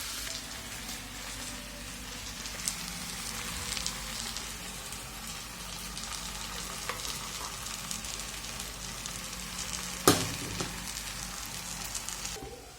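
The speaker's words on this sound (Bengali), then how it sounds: "তো চলো আগে ভালো করে মিশিয়ে নিই," Egg chicken chowmein frying in a pan gives a steady, even sizzle that fills the whole stretch, broken once near the end by a single sharp clank of a utensil.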